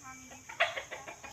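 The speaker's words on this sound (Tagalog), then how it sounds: "So marami palang alaga dito ng manok sa Ate Inday" Backyard chickens kept near a coconut grove by the sea give a few soft, nearby clucks and murmurs in a brief burst.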